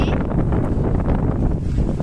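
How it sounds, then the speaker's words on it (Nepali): Strong wind roars steadily, buffeting the microphone with a loud, broadband rush that never lets up. "हावा यस्तो चलेको छ नि"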